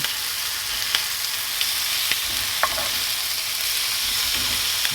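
Salami, pepperoni and ham fry in a pan for a meat lovers pizza burger, giving a steady, close sizzle with faint crackles and a few sharp pops scattered throughout, no voices.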